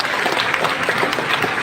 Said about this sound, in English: We need to give a big round of applause to our sponsors.